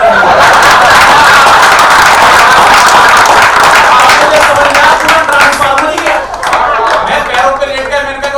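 A large live crowd at a Hindi stand-up comedy or speech event claps loudly and continuously, with dense, sustained applause and some laughter mixed in throughout.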